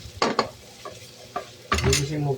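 A utensil scrapes and clanks against a frying pan while sautéing miso in several irregular strokes over light sizzling, ending in a louder burst of stirring.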